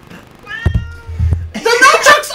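A cat meows twice close by, short loud cries, followed by a burst of lively talk and laughter from people in the room.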